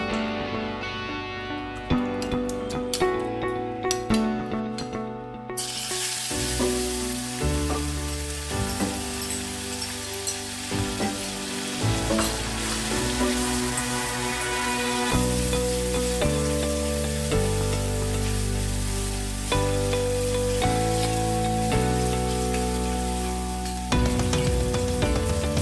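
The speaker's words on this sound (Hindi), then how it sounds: "एक कढ़ाई में 2 चम्मच देसी घी डाल के मैंने ये मैश्ड कीवीज जो है डाल दी" Mashed kiwi fries in desi ghee in a kadhai, a continuous crackling sizzle. The stirring is steady and even, with faint clinks and scrapes running throughout. There is no talking.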